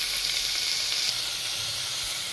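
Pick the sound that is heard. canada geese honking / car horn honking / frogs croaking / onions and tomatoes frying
onions and tomatoes frying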